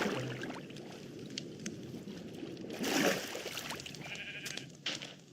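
A sheep bleats in the video game Minecraft, a single soft, mid-distance bleat over quiet background noise from the game world, with a few faint clicks around it.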